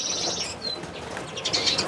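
An Isabel siskin flutters briefly in the hand as it is held, soft close wing flaps and rustling with a few faint high chirps, no talking.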